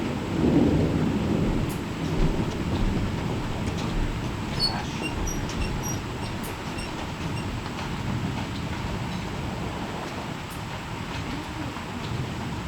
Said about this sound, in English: You hear all that thunder?